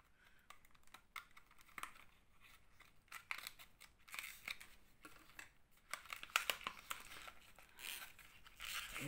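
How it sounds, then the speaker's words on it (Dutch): Scissors snipping and cutting open plastic makeup packaging, with a series of sharp close clicks and crinkling tears coming in irregular bursts, quiet and with no talk. "Ik heb een schaar nodig, denk ik. Is niet makkelijk open te krijgen."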